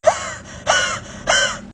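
Three harsh, breathy coughs, evenly spaced about half a second apart and fairly close, each a short raspy burst with no talk around them.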